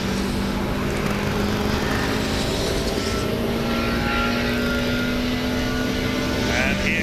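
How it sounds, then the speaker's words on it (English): A race car from a 2KCUP club race passing loudly on track, a sustained engine drone with a steady pitch that dips near the end, with no gap or quiet around it. "here comes that extremely noisy Paul Dunkley"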